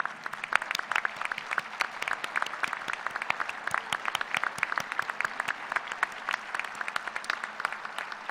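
A commencement audience gives graduate faculty a round of applause, dense steady clapping from many hands with crisp individual claps close by, sustained evenly throughout without talk.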